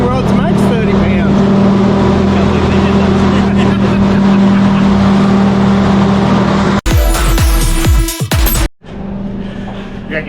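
A Nissan R31 Skyline with a turbocharged RB engine running hard on a hub dyno, a loud sustained roar that rises, then a sharp break into rattling and turbo blow-off before a quieter idle.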